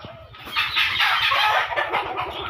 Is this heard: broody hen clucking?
yes